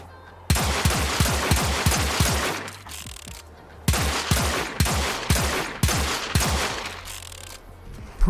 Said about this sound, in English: The main reason is its gunshot sound.